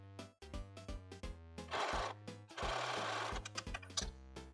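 Sewing machine running a zigzag stitch on scrap fabric, a fast close rhythmic mechanical chatter that runs in short bursts and two longer continuous stretches, quiet overall.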